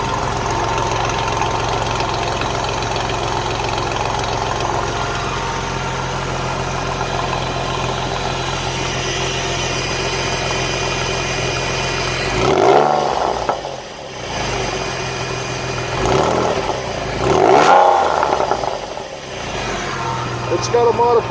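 A 1999 Porsche Carrera with a modified exhaust and heavy V-flow intake idles steadily, then revs sharply several times, each rev rising and falling loudly, getting louder past about 2,500 RPM, with someone talking over the engine.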